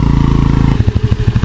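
A motorbike ridden on a road in Nuwara Eliya, Sri Lanka, runs with a steady close engine drone that turns into a rougher, pulsing rumble partway through, with no talk over it.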